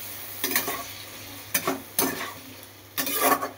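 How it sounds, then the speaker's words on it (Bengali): A spoon stirs green chilli paste into ridge gourd in a pan for jhinge bhapa, four or five separate scraping, sizzling strokes spaced by quiet gaps over faint background hiss. "কাঁচা লঙ্কা পেস্ট করা রয়েছে, সেটা একটু দিয়ে দিলাম। একটুখানি নেড়ে চেড়ে নিচ্ছি।"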